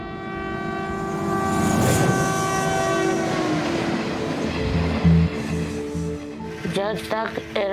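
A moving train rumbles and clacks steadily, with a long horn blast sounding early on and shifting tonal squeals near the end, and voices talking over it.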